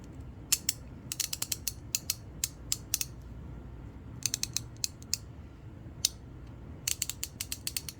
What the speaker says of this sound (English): We can check for function on this style of ratchet